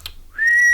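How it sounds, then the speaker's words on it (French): A crowd whistles in Clash Royale, a single rising whistle that swells and then holds as a loud, bright, steady tone after a brief faint blip, with no voices over it. "le public qui siffle."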